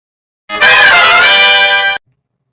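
A single bright electric guitar chord through an ambient reverb pedal rings out loud and sustained for about a second and a half, then stops abruptly into silence.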